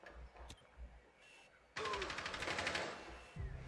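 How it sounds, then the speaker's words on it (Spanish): A loud, rapid burst of automatic gunfire erupts for about a second and a half during a Rainbow Six ranked match on PS4, after a stretch of quiet game ambience, then drops back down. "Creo que se oyen disparos por acá de este lado."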